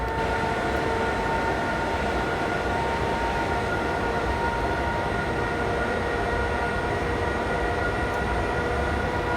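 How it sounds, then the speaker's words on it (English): A train runs in the Train Sim World 2022 video game, a loud steady rumble of rolling wheels and motor drone with a sustained whine, continuous and close throughout. "I really enjoy this train simulator stuff"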